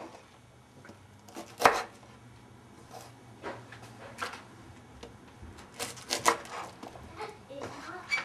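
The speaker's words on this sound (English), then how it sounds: "the first thing I do is I cut off the base of all the sprouts" A knife trims the bases off a batch of about twenty Brussels sprouts, making scattered, quiet chopping taps and clicks at an irregular pace against a low background.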